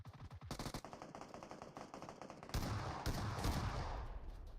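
Rapid shotgun fire in a competitive video game match comes as a fast string of sharp, close blasts, followed by a denser, louder barrage of overlapping shots.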